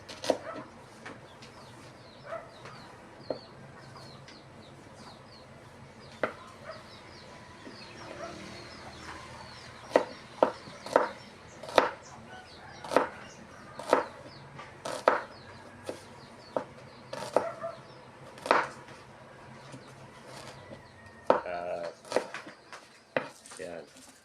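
A knife chops garlic into small pieces in a home kitchen, sharp irregular taps on a board that come sparse then quicken, under a speaking voice with faint birds in the background.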